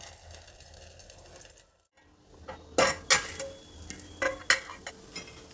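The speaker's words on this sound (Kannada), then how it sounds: "ಈಗ ಒಂದು ತಟ್ಟೆ ಮುಚ್ತಾ ಇದ್ದೀನಿ." A plate is set down as a lid over a paddu pan at the stove, making a few sharp ceramic-on-metal clinks and knocks over a low cooking hiss.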